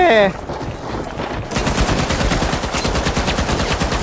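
Rapid automatic gunfire in The Finals video game, a dense stream of close, loud shots that kicks in after a short pause and keeps hammering to the end.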